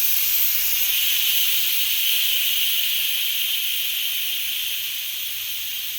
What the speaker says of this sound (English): So we are going to remove the pressure again.